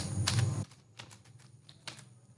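Keys tapped on a computer keyboard while typing in Microsoft Word, a louder burst of rustling at first, then a sparse series of light, uneven clicks close by.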